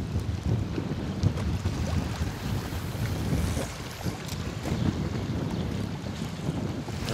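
Strong wind blows steadily outdoors during a fishing competition by the water, a loud continuous buffeting rumble on the microphone with waves faintly mixed in and no talk.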